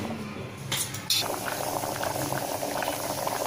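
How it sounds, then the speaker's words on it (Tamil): Chayote, onion and green chilli boiling in a pot of water, a loud close bubbling and rolling simmer that runs continuously, with a brief clatter near the start. "இப்போ சவு சவு வெங்காயம் பச்சை மிளகாய் நல்லா வேகட்டும்."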